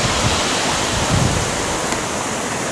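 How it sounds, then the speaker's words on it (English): A flooded river rushes past in a valley with a strong current, a loud, steady broadband roar of water heard close by without pause or voices. "That's the river over there."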